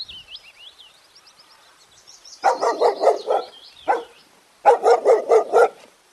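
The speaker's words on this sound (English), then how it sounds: "D for dog" A dog barks in two quick bursts of rapid, sharp barks, with a single bark between them and high bird chirps above.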